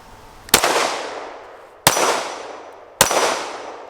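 Three loud, sharp shots from a Springfield Armory Echelon pistol, spaced a little over a second apart, each with a brief ringing decay. No one speaks.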